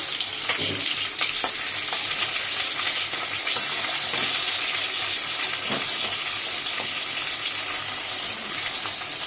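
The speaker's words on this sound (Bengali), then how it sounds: "মাছের মাথাটা ভাজা হচ্ছে" A fish head fries in a pan for cabbage curry, giving a steady close sizzle and crackle with occasional sharper pops, no voices.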